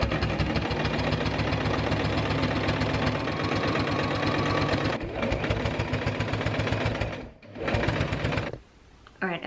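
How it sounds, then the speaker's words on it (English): A sewing machine runs steadily, its motor and needle whirring in a fast continuous rattle while stitching a ripped dog bed, close and loud, pausing briefly near the end before a softer tail. "now I'm just going to zip along on my sewing machine"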